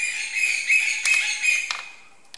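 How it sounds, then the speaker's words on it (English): Birds chirping steadily, a high continuous twittering with a few sharper calls, fairly close and clear with no talking. "Listen to those birds."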